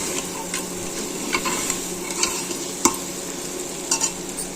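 Spice masala stir-fried in a pan, with a steady soft sizzle and scattered scraping clicks from a spoon stirring it. The cooking is close by and continuous, with no talk.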